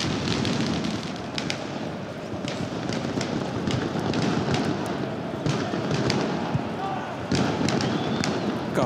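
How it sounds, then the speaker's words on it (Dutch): Dense, continuous crackle and booming of heavy fireworks set off outside a football stadium at an AZ versus Sparta Rotterdam Eredivisie match, loud and sustained with sharp bursts throughout, mixed with crowd noise. "Vuurwerk hè, buiten het stadion."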